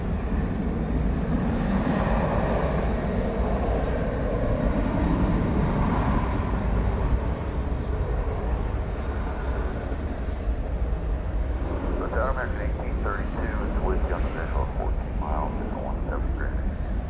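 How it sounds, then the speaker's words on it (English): An Alaska Airlines Boeing 737-800 jet at DFW Airport at night, a broad steady engine roar close by, with someone talking over it toward the end. "We can give you a look at this Alaska Airlines 737-800, Flight 317 going to Seattle."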